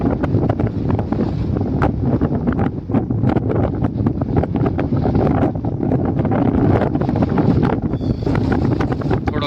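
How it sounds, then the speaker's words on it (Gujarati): At a village sea shore with a boat offshore, gusty wind buffets the microphone in a loud, rough roar, and the rushing of waves along the coast mixes into it throughout. "આ છે અમારા ગામનો દરિયો છે."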